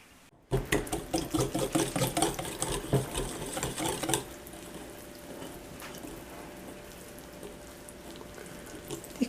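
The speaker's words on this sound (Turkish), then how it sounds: "Çırpma telim ile güzelce hamurumu bir karıştıracağım." Wire whisk beating waffle batter in a bowl, a rapid rhythmic clatter for about four seconds that then stops, leaving faint kitchen room noise.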